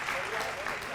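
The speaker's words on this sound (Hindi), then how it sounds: "ताली बजाओ एक बार।" Audience clapping at a Hindi comedy poetry show, a dense steady patter of many hands under a brief voice.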